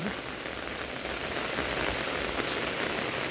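Steady overnight rain pours down over rice fields, a dense continuous hiss of drops on surfaces, even and fairly loud throughout.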